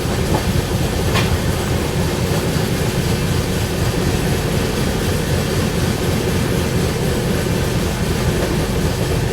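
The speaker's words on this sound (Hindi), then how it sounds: "तो अपनी ट्रेन निकल चुकी है अभी चर्लपल्ली रेलवे स्टेशन से।" Heard from aboard, the East Coast Express rumbles steadily along the rails after leaving Charlapalli station near Hyderabad, a loud continuous roar with the rhythmic clatter of the wheels.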